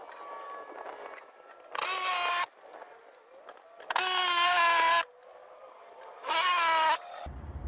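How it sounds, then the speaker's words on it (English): A power drill drives screws to fix a mini split mounting bracket to a wall during a DIY Mr Cool install, with three loud, whining bursts of roughly a second each separated by quieter pauses. "I'm going to go ahead and put those screws mounts on the back."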